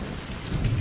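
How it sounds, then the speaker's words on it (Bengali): Rain pours and thunder rumbles low in a Bengali horror cartoon set during a Kalbaishakhi storm, with a steady, dense wash of rainfall over a deep rolling growl, brief and without voices. "বিকেল থেকে বৃষ্টি হচ্ছে"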